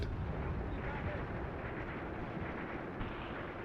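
Tank gunfire from a WWII tactical battle in Graviteam Tactics: Mius Front, a dense, continuous rumbling roar of blasts and explosions filling the whole clip at steady loudness.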